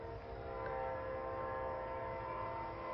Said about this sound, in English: here comes Amtrak P040, the northbound Floridian train from Miami, Florida to Chicago, Illinois.